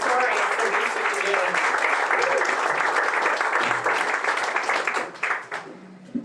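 A live storytelling audience claps and cheers, a dense sustained round of applause that builds and then trails off near the end, with no one talking over it.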